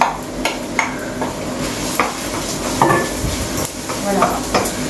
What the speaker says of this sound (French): je vais mettre les oignons en ail à suer.